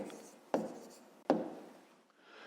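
A pen or pencil writing an answer by hand on paper during a fifth-grade maths lesson, with two sharp taps of the tip on the page and soft scratchy strokes between them, close and quiet.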